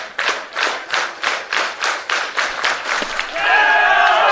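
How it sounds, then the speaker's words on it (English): A baseball crowd claps in a steady rhythmic beat, about eight even rounds of clapping, before it breaks into looser general applause and cheering. "The crowd starts clapping."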